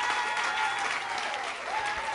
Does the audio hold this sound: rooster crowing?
no